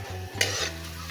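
Eggs sizzle and fry in a hot pan, a close crackling hiss with a brief stirring scrape.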